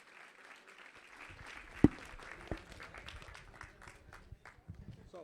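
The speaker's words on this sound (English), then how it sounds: "A round of applause for them" Audience at a Classic Tetris World Championship main stage applauds, a fairly faint scattered patter of clapping with a few sharper claps, heard at a distance.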